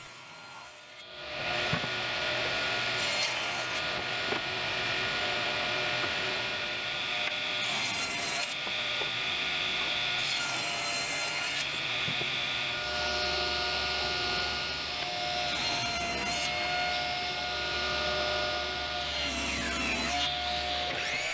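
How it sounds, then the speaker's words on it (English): A table saw rips the rough mill edge off wooden boards, a steady continuous cutting whine and rub running nearly throughout, with the pitch dropping slightly under load near the end; no talking. "Because these boards have a rough mill edge, I clean them up with the table saw before cutting the final width."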